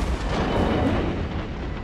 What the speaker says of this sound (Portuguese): Uma explosão ali me matou por quê